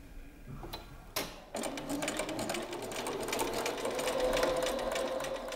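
Sewing machine stitching a seam: after a few clicks it runs in a steady, fast, close mechanical whir that builds slightly and continues to the end, with no talk.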